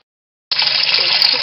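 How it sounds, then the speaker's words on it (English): Water gushes steadily into a twin tub washing machine, starting abruptly after a short silence and continuing at an even, loud rush. "I'm going to go and start filling this machine up with water."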